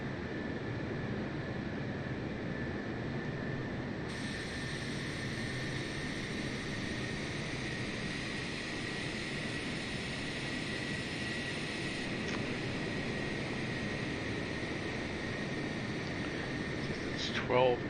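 A Boeing 747 taxis in Microsoft Flight Simulator, its engines giving a steady, even broadband rumble and whine that runs unbroken throughout, with a higher tonal layer joining partway through.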